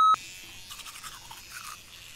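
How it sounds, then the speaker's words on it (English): Teeth are brushed with a toothbrush dipped in black charcoal powder, a soft, close scrubbing sound that follows a brief beep at the start, with no speech. "I just like to dip my toothbrush in there and then I brush it onto my teeth."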